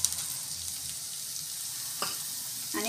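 Mushrooms frying in butter with ginger paste for a soup, hissing in a steady, moderate sizzle, with a couple of sharp utensil clicks near the end.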